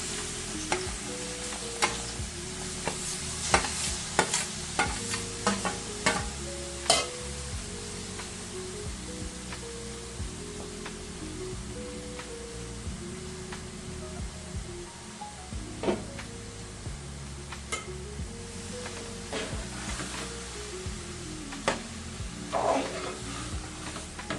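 Grated raw mango sautéed in homemade ghee over a low flame gives a continuous soft sizzle, broken by frequent sharp clinks and scrapes of a spoon stirring in the pan, with a faint background hum.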